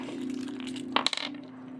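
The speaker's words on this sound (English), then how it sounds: "So I'm going to see if I can find my keys." A set of keys, with a knife attached, jingles and clinks in a short, bright burst over a steady low hum, close by.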